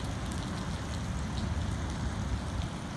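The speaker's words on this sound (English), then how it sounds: "currently raining here in Kuwait" Constant soft patter of windy rain in Kuwait in the late afternoon, a dense even hiss with faint low rumble, no voices.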